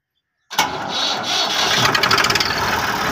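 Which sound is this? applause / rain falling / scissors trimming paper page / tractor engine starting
tractor engine starting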